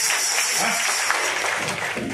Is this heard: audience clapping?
yes